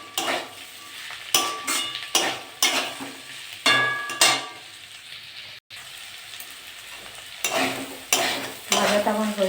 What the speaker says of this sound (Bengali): নেড়ে চেড়ে নেবো।